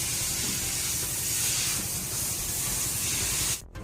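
A close water spray hisses steadily while rinsing the engine bay of a black car during a cleaning and coating job, then cuts off abruptly near the end.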